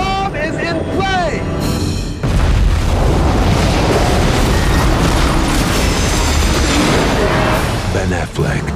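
A bomb blast in a Tom Clancy thriller trailer, a sudden loud boom that swells into a long roaring rumble and holds for several seconds, following brief dramatic voices and whooshing effects.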